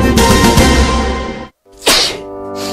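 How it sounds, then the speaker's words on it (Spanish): A single loud sneeze bursts out, a short sharp exhale close by, followed by a brief pause and a second breathy burst. "Al estornudar y toser"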